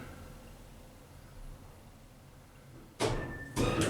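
The doors of a Stannah hydraulic lift in a small Gatwick Airport car park open with two loud, close, broadband bursts of sliding and rumbling, the second following half a second after the first, over a quiet hum.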